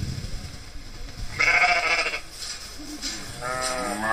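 Sheep bleat on a hillside at a Christmas celebration, several loud nasal bleats in short bursts, near and clear over a low rumbling background.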